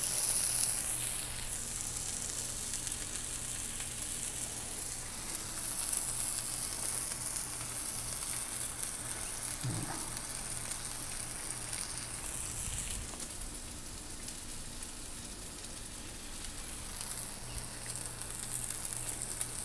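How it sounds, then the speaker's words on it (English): Steady, continuous sizzling of homemade potato chips frying in a pan, a broad crackling hiss that holds at an even level throughout with a brief low clunk near the middle. "nice, nice sizzle"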